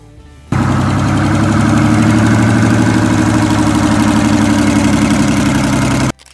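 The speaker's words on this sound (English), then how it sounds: "When it came to brute force and unmistakable sound, few engines left a bigger mark than the Detroit Diesel 12V71" Detroit Diesel 12V71 engine running with a loud, steady, deep rumble that starts abruptly, holds evenly for several seconds, then cuts off, heard alone.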